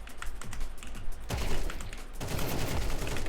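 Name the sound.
gunfire in Counter-Strike 2 video game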